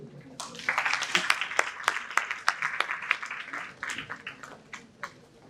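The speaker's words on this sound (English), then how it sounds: "I would request a loud round of applause for" An audience at a healthcare conference session on digital services claps for a speaker being called to the stage, with distinct, fairly sparse claps building quickly and then thinning out toward the end.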